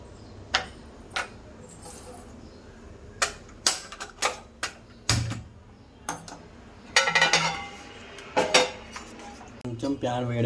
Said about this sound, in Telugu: తర్వాత దీన్ని ఫోమ్ వచ్చేలా కలపాలి మంచిగా.